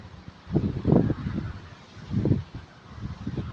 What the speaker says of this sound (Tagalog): Yan, may mga ibon. Oh, may mga ibon-ibon.